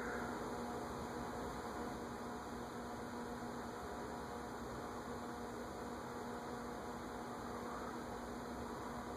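A Tatung 36-inch Caribbean Breeze style ceiling fan, its dry top bearing recently oiled, runs with a steady, even whoosh of moving air and a faint motor hum, constant throughout with no voices.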